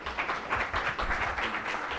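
Audience applause at a JavaScript developer conference in New Delhi: dense, continuous clapping from a crowd, moderately loud and even throughout, with no voices over it.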